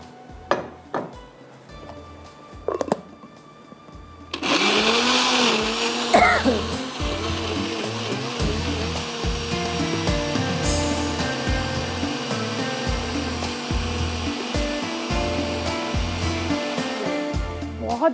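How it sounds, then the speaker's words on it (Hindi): A kitchen blender whirs loudly and steadily as it blends a barbecue chutney of tomato ketchup, salt, black pepper and green coriander with a little water, starting after a few soft knocks and running continuously to the end. "अब ब्लेंडर को चला देते हैं"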